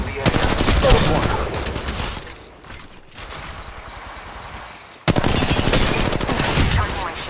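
Automatic gunfire in Apex Legends Mobile, loud sustained bursts that pause briefly and then resume hard, with game voice callouts mixed in.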